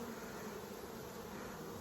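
A dense, steady buzz of many bees from a swarming hive, continuous and close, with no voices.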